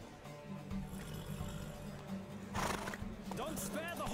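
A horse whinnies sharply during a race in The Witcher 3, set against a low rumble of hooves and crowd noise, with a shout from a voice near the end.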